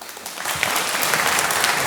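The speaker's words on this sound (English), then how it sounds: "That deserves another round of applause." An audience at an excellence awards celebration breaks into applause that builds quickly and holds as a dense, close patter of many hands.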